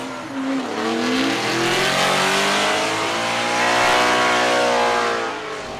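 A heavily modified Subaru BRZ Formula Drift race car revs hard, its engine note climbing and falling in sustained loud sweeps with a harsh, buzzy exhaust rasp, close and continuous throughout, with no talking.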